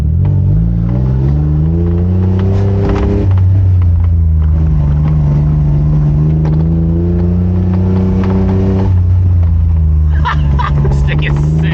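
A tiny, light Honda K car micro car without power steering drives at low speed: a steady, close, buzzing engine drone whose pitch climbs and dips gently with the throttle, ending in brief rattles.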